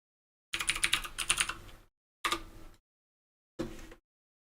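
Rapid clicks from a computer mouse or keyboard come in three short bursts, with a longer flurry first and two briefer runs after, crisp and close with silence between them.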